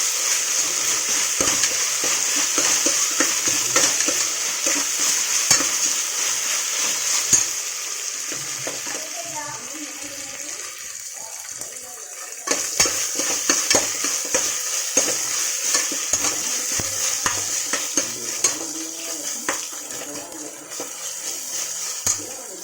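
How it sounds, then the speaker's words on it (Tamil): Mint leaves frying in a pan for biryani, a loud continuous close sizzle with frequent scraping stirs of the spoon, a brief quieter dip midway before the hiss resumes at full strength. "புதினா நல்லா ஃப்ரை ஆகட்டும்."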